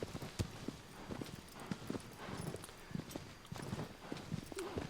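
Horse hooves clip-clop at a steady walking rhythm across a forest in the Shadow of the Colossus video game (2018 remake), moderately loud and close, with no talking over them.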